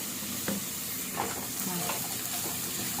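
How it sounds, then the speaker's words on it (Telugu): Ginger-garlic paste with turmeric fries in a hot pan, giving a steady close sizzle broken by scraping stirring strokes, with no talking. "అల్లం పచ్చివాసన పోయినంతసేపు ఎర్రగా వేయించుకోవాలి"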